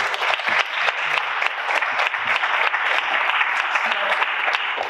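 A crowd at a live talk claps steadily and loudly, a broad wash of applause holding through the whole stretch with faint voices underneath.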